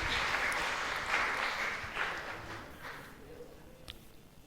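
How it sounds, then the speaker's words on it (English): Crowd applause, a dense wash of clapping that starts strong and gradually thins and fades over a few seconds. "can we have a big round of applause for these guys, please?"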